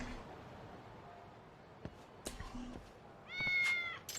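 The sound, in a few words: cats meowing in video game Lost Judgment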